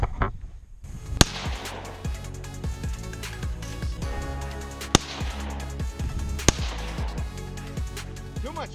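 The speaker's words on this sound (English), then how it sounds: "So let's do some shooting" Outdoor shooting gives several sharp, loud gunshot cracks spaced a second or two apart, each followed by a ringing echo, over a steady background.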